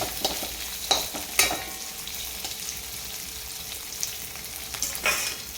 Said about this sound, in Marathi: आता हे तेलामध्ये असं हे सगळं मिश्रण आपण असं हलवून देऊन मस्तपैकी फोडणी देऊन घ्यायची